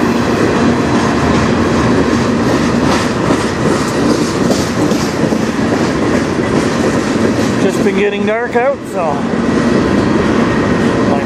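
A CN freight train rolls past on the railway line, its steady rumble and clickety-clack of wheels dominating throughout, with brief wheel squeal near the end while someone talks quietly over it as dusk falls.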